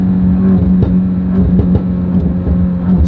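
A 900 hp BMW M550 running E50 fuel with methanol injection accelerates hard from inside the cabin, a loud, steady engine drone that climbs and shifts under load, with no talk.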